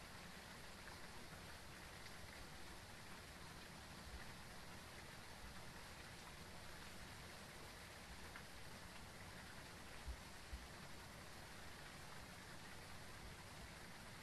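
Steady rainfall in the ghost-hunting video game Phasmophobia, a continuous soft hiss of rain on surfaces holding even for the whole stretch, faint and unbroken, with no voices.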